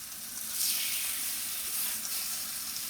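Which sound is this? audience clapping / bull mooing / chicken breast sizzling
chicken breast sizzling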